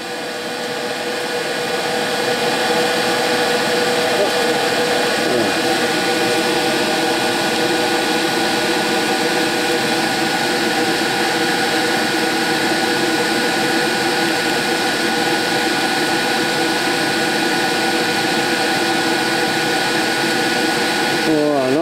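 A compressor-fed spray gun with an 04 needle at 1.5 applies GX112 varnish, producing a loud, steady rushing hiss of air that runs unbroken for over twenty seconds.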